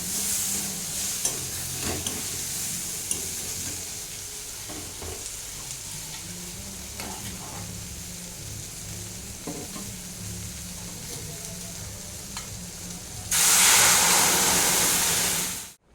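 Lentils fry in hot oil while a spoon stirs them, giving a steady sizzle with scraping strokes, then a sudden loud hissing burst near the end.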